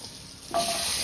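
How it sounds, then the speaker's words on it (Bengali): Potatoes drop into hot oil seasoned with garam masala, dried red chilli and cumin, and a quiet hiss jumps into a sudden, louder sizzle that keeps going steadily; no voices. "আলুটা লাল লাল করে ভেজে নিলাম"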